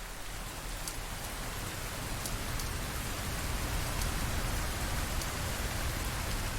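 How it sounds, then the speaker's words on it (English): Steady rain falling in Minecraft with a shader pack, a constant dense hiss of drops at even level with faint brief crackles, no voices. "Just gonna give you a look at how it looks when it rains with this shader pack"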